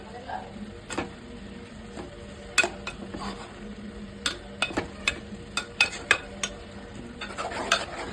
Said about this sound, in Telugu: చూసారా కలుపుతుంటే గోంగూర మగ్గిపోయి ఎలా కలిసిపోతుందో